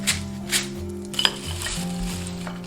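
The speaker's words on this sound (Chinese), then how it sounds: "全程一定要中小火炸" Chicken pieces frying in hot oil over medium-low heat after tea leaves were fried in it, with a steady close sizzle, occasional stirring, and light clinks of utensils against the pot.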